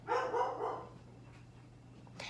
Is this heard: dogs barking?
yes